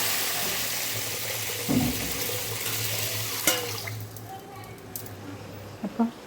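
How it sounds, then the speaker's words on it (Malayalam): Water poured into a cooking pot on a home stove after frying, a steady low pouring wash with a few brief clinks and splashes, close by, no talk. "ഇപ്പം ഒന്ന് വെള്ളമൊഴിച്ച് കൊടുക്കാം."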